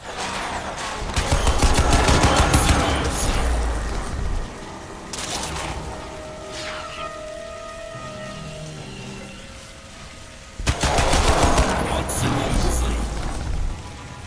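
Bursts of turret gunfire in Crysis 2 Remastered come as loud rapid volleys with a quieter stretch between them, layered over game ambience with beeps and tones.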